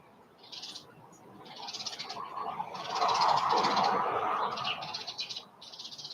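A bird calls outdoors in repeated bursts, with a soft rustling, noisy background swelling in the middle.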